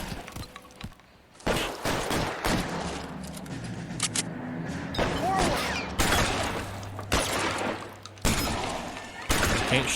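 Gunfire in the video game LA Noire: repeated loud bursts of shots in clusters across the clip, with game voices heard between volleys.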